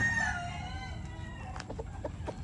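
A gamecock rooster crows once close by in a backyard, a loud drawn-out call tapering off, followed by softer clucks and scattered small sounds.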